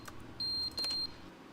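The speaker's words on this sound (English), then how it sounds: "Okay, it's a smoke detector." Two electronic beeps from a smoke detector in The Stanley Parable video game, each about a third of a second long and close together, over a faint background hum.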